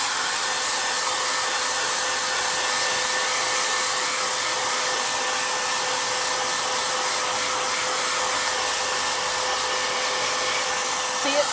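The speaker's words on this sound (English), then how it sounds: "let's get our hairdryer. Sorry for the sound." A hair dryer blows steadily on wet paint, a loud, unbroken whir held close for the whole stretch.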